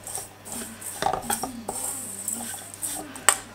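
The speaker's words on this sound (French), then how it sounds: "Je mélange tous ensemble." A utensil scrapes and clinks against a bowl while granola ingredients such as bran and coconut are stirred together, giving soft irregular taps and scrapes at close range under faint background noise.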